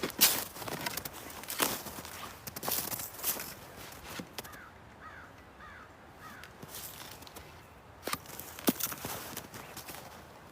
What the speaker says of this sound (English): There's the crows.